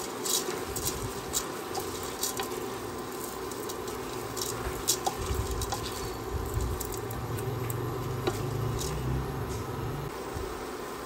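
Adlai grains poured into a pot for goto arroz caldo, a soft, steady patter of small grains with scattered light ticks, close and alone with no talk.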